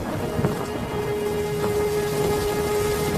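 Steady, dense rain pours through a village storm scene in a Bengali cartoon, a continuous close wash of drops with a faint low tone running beneath and no voices.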